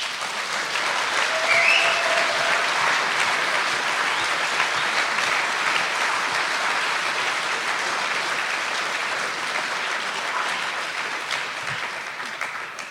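Sustained applause from a meeting audience, dense clapping that stays loud and even for the whole stretch, with no talk over it and only a slight fade near the end.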